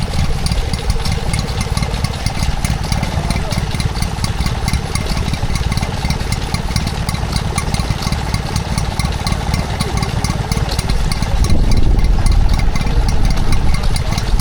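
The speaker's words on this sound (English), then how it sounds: "That there is a Stuart Turner P4 two-stroke engine" A Stuart Turner P4 two-stroke stationary engine runs steadily at a spring fair with a fast, even chugging beat and mechanical rattle, loud and close, growing slightly louder near the end.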